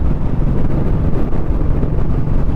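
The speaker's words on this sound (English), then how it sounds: "So much of wind." Strong wind roars steadily into the microphone while riding on a motorcycle road trip from Goa to Ladakh, a loud continuous rumble with no talking.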